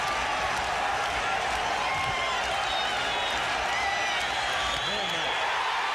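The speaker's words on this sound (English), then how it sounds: "Listen to those crowds." A large stadium crowd at a 1984 Cubs baseball game in Pittsburgh roars continuously as the Cubs clinch, played back as a radio broadcast with a dense, unbroken wall of cheering and a voice talking over it.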